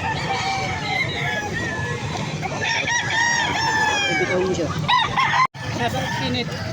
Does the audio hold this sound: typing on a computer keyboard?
no